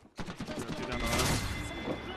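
Video game gunfire crackles in rapid, dense bursts that merge into a sustained volley, fairly loud and close.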